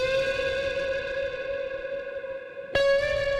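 Electric guitar pushed through a distortion effect, sustaining a buzzy held chord that thins out before a fresh, bright strike near the end, with a processed, reverberant edge.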